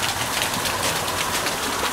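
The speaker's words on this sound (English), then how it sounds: "quite a big hailstorm here at Bannogan Valley, and you can feel the cold freezing downdraft from the thunderstorm" Hail pours down steadily during a thunderstorm in Bannogan Valley in the Gold Coast hinterland, a dense, even hiss and patter of stones striking the ground and lawn with no voices.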